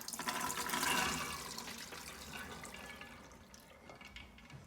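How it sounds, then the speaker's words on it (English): Water pours steadily into an Instant Pot pressure cooker over chickpeas, a rushing, splashing stream that gradually softens and thins out as it continues. "So we're gonna add water, and so make sure the water covers the chola."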